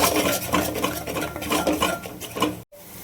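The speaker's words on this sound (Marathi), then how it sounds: "चांगलं भाजून घ्यायचं बघा मसाला घातल्यावर." A spoon scrapes and stirs through mutton masala of coriander powder and spices as it roasts in oil in a pan. The metallic scraping is continuous and close, with a brief break near the end.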